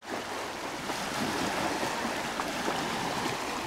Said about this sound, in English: We're the second elephant to be in a troop crossing the Ping River